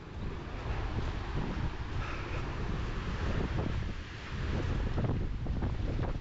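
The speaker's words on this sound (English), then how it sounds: "But the headwind I'm going to be running in, it's going to be tough." Headwind buffets a microphone during a run outdoors, a loud continuous rumbling roar that swells and dips without a break.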